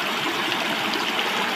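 Water from a natural spring flows strongly in a steady, full rush, close and continuous with no pauses and no voices.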